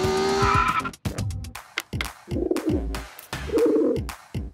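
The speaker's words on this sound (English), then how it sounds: "Back off, bird!" Pigeons or doves flutter and call close by in a cartoon scene, a busy mix of wing flaps and coos with sharp impacts, crowding around and alone without talk.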